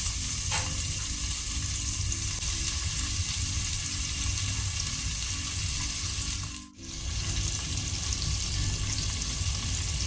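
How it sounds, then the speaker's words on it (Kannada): Green chili and onions frying on a low flame for a mutton biryani, a continuous close sizzle with a faint steady hum beneath and a brief dropout midway, no talking. "ಲೋ ಫ್ಲೇಮಲ್ಲಿ ಸ್ವಲ್ಪ ಫ್ರೈ ಮಾಡಿಕೊಳ್ಳುವ."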